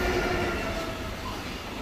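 A train rumbles past in the Middle Rhine valley near Kamp-Bornhofen station, a continuous loud, broad rail roar that eases slightly toward the end.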